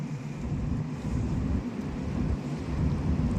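Small empty boat approaching a port, a continuous low engine rumble mixed with water and wind noise, steady and fairly close, with no voices.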